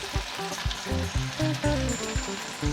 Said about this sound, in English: Go ahead and add your blended tomatoes.